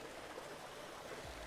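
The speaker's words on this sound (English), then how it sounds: "you can hear the sounds of the water a lot better" Steady broadband rush of flowing water at La Olla, a calm natural pool below a waterfall near Villa General Belgrano, Argentina, continuous and fairly close with no voices.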